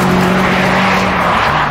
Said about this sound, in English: VTEC engine in this is astonishing.